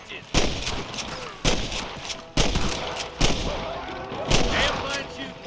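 Repeated gunshots in a Red Dead Redemption shootout, sharp broadband cracks spaced about a second apart with echoing tails, loud and close, mixed over a busy background of game sound and some speech.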